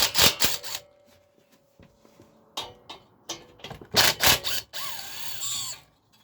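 A socket wrench ratchets in short bursts of clicking against a Ryobi carburettor, loud and close, with quieter gaps between the turns.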